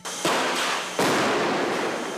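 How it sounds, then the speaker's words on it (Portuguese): Explosions go off outside a building during a BOPE police operation: two sharp, loud blasts about three-quarters of a second apart, each trailing into a dense, sustained crackle with no voices. "Foram ouvidas as primeiras explosões do lado de fora."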